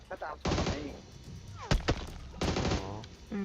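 Several close, sharp bursts of PUBG Mobile gunfire crack out at uneven intervals, with a voice talking between and over the shots.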